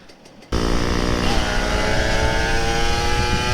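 After a quiet moment, a Kawasaki Ninja RR 150 motorcycle engine suddenly roars to life and holds a loud, steady rev with a rising whine, close by.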